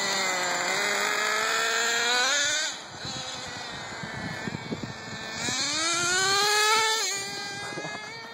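Traxxas Jato 3.3 nitro RC car racing at high speed, its high-pitched engine whine rising and falling as it accelerates and passes, loud and near, with a brief dip between runs.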